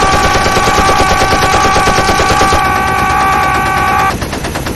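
Rapid automatic gunfire from gun shop enemies in the video game Dead Rising, a loud continuous fusillade of dense repeating shots with a steady tonal whine running beneath, easing slightly near the end.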